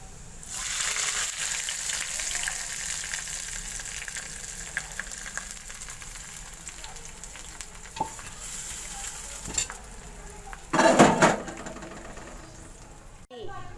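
Garlic and cumin tadka sizzles in hot oil and is stirred into mustard greens saag, a steady frying hiss with occasional utensil scrapes and a louder burst of crackling near the end.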